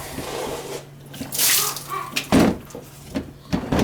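Water leaks from an outside faucet into a basement while the tap runs, giving irregular splashing and running bursts with brief gaps, close and moderately loud, and no voices.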